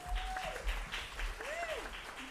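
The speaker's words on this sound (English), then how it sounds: "Can we give another round of applause?" Audience applause after a new-music ensemble performance at a Chicago festival concert, a steady patter of clapping lasting the whole moment with whistling tones rising over it.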